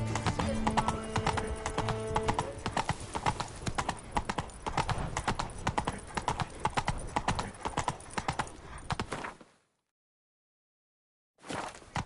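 Roach, Geralt's horse in Witcher 3, gallops with rapid, loud clip-clop hoofbeats, a brief whinny early on, then a sudden drop to silence before the hooves return briefly at the end.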